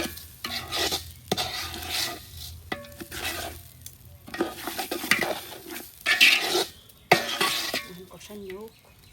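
Rice stir-fried in a pan for a Bengali New Year meal, a steady scraping and sizzling with bursts of stirring, close by, while people talk intermittently over it.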